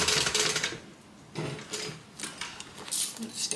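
A Simply Classic Madge sewing machine stitches through fabric in short mechanical runs, a close whirring clatter that starts and stops with quieter gaps between bursts.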